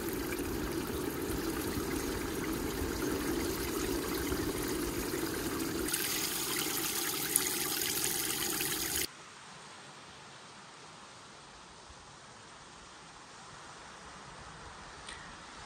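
Water running from a portable outdoor shower by the sea in Sardinia, a steady hissing spray that stops partway through, leaving quieter ambient background noise.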